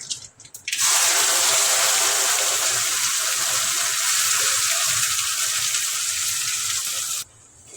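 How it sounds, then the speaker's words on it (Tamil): Mustard seeds and curry leaves hit hot oil with a sudden loud sizzle that holds steady and close for several seconds, then stops abruptly. "எண்ணெய் காஞ்சதை கடுகு சேர்த்துக்கலாம் கடுகு பொறிஞ்சதும் கருவேப்பிலை சேர்த்துக்கலாம்"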